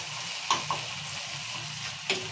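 Ginger frying in oil in a pan, a soft continuous sizzle with a few sharp scrapes of a stirring spoon, close and moderately quiet, with no talking.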